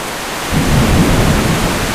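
Steady, loud wash of heavy rain in a thunderstorm, with a deep rumble of thunder swelling in halfway through and rolling on under the downpour.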